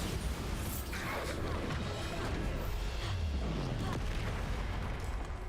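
Bombarda explosion spells going off in the video game Hogwarts Legacy, dull booming blasts and crackling bursts layered over a dense, continuous wash of combat noise, with one low sweeping whoosh.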